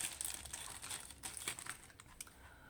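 Plastic packaging of a diamond painting toolkit being opened: close, soft crinkling and crackling with quick ticking clicks, fairly quiet and with no talking.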